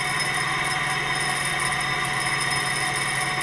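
A gamma Stirling engine runs near 1200 RPM at high temperature, giving a steady, close mechanical whir with a bright tonal whine and fast, even rhythm throughout.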